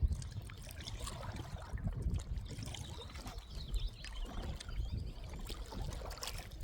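A quick kayak paddles through water among lily pads, with continuous splashing, trickling and swishing strokes close by and no talking.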